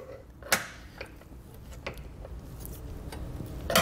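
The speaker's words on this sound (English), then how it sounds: "So I'm just gonna take a screwdriver and pop them out." A screwdriver pries plastic plugs out of the frame rail of a 2022 Subaru Outback Wagon, producing scattered sharp clicks and snaps over a low scraping background, close and fairly quiet, with no talking.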